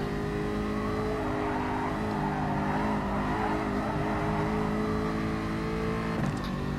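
Race car engine in a racing video game on a slow tyre warm-up lap, a steady, moderately loud droning hum with gentle pitch shifts and a brief squeal near the end, with no talking.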